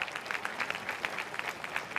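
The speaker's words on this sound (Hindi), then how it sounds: "जोरदार तालियां।" Audience applause for an honoree at a club awards event, a steady patter of many hands clapping at moderate volume with no talk over it.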